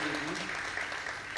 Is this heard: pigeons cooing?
no